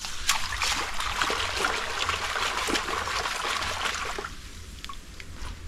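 Water splashes and trickles steadily as it rinses thick mud off, a close, continuous wash that eases slightly near the end.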